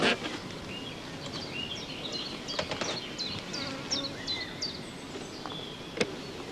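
Honey bees hum steadily on hive frames during a colony inspection. The buzzing is dense and close, broken by brief sharp clicks and faint chirps, with no talk over it.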